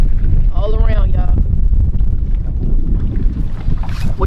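Wind buffets the microphone on open water during a fall fishing trip aboard a Bass Tracker 175 boat on the Delta, a loud continuous rumble with someone briefly talking over it.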